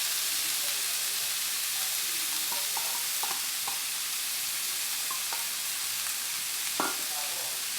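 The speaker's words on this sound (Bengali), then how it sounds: "নাড়াচাড়া করে ভেজে দেবো।" Radish leaves sizzle and fry in a pan with turmeric, a steady loud hiss throughout with occasional light clicks of stirring, close up and with no talking.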